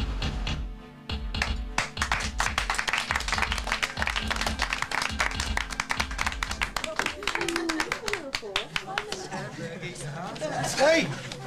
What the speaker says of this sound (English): Hey, you got a good clap anyway.